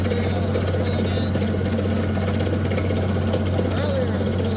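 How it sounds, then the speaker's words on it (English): A water well drill rig grinds into solid granite about sixty feet down, a loud steady mechanical hammering drone with constant engine hum and no pauses. "This right here is drilling in."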